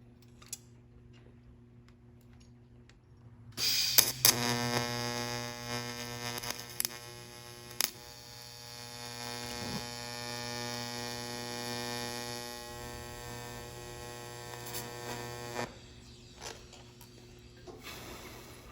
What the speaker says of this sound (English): now I'm going to weld a bolt to the washer, because now I have plenty of surface area to weld to